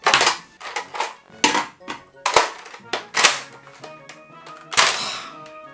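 A Nerf Longstrike blaster being handled up close: a quick series of sharp plastic clacks, snaps and thunks from priming, firing and swapping the magazine, with short pauses between each burst.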